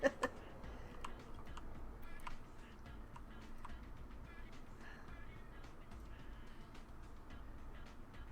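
A computer keyboard is typed on during a Cities: Skylines session, with scattered soft keystroke clicks under steady game background noise.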